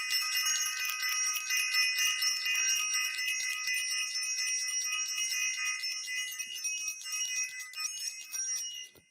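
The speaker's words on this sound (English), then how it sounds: "I want to ring the bell" A bell rings rapidly and continuously, a bright, shimmering, steady ringing that holds for about nine seconds with no talking.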